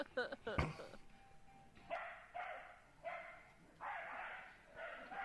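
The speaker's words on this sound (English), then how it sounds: "That's a dog. Dogs shouldn't be able to get that tall." A borzoi dog barks in a series of five or six moderately loud barks with a steady rhythm, after a few short sharp sounds at the start.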